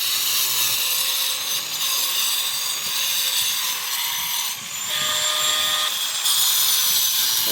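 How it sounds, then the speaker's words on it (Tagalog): Grinder run along a seam in a wall panel, a loud continuous high-pitched abrasive whine that holds steady throughout with slight dips in pitch. "pinapadaanan muna ng grinder"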